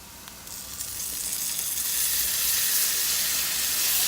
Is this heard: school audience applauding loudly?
no